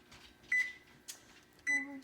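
An oven keypad beeps twice, short electronic tones about a second apart, as the oven is set to preheat to 475 for baking bread, in a quiet kitchen.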